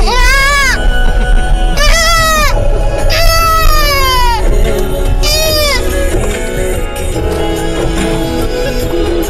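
A voice imitates a goat, letting out four loud, wavering bleats in quick succession over a steady background of music and noise.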